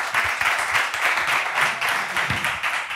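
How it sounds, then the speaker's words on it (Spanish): An audience at a talk applauds with hearty, moderately loud clapping that pulses slightly in intensity throughout, with individual claps audible within the crowd sound. "Le damos un fortísimo aplauso y empezamos."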